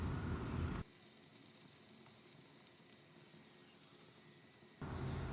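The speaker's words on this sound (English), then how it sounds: "on low to medium flame we will saute them until they are well browned from all the sides" Paneer cubes sautéing in a pan over low to medium flame, a steady crackling sizzle that drops to a quieter, softer hiss midway before swelling loud again, with no voices.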